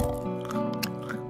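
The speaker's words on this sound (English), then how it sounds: "chewing," Close, wet chewing sounds with a steady background bed and no talk, part of a holiday ambient soundscape.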